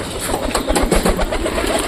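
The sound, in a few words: pigeons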